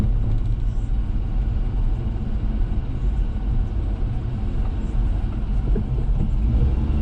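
Daihatsu Hijet kei truck coasting in neutral, a steady low road and engine rumble with tire noise holding constant throughout, close and continuous with no shifts or revs.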